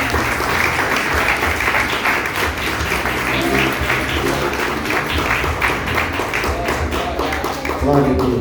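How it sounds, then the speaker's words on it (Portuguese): A church congregation at a children's service claps steadily for Jesus, a dense, loud round of hand-clapping with voices talking and calling out underneath throughout. "E as palmas logo ao Senhor Jesus."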